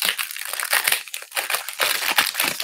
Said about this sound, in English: let us do the unwrapping, and I will try to keep it away from the microphone